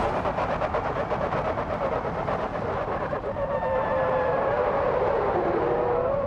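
Heavily upgraded truck in BeamNG with nitrous engaged near top speed, its engine roaring steadily and loudly throughout, a rising whine building in the second half as it pushes faster.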